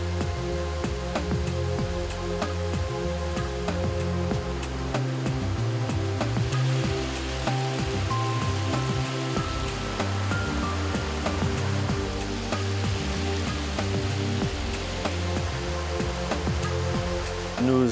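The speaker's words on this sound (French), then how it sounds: "l'eau claire va, elle, surverser du bassin pour partir vers un dernier traitement" Clear treated water spills over the edge of a basin at a sewage treatment plant, a steady, unbroken rush close by over a constant mechanical hum.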